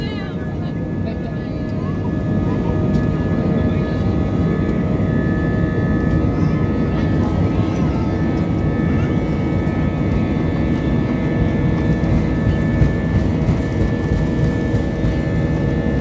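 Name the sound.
airliner taking off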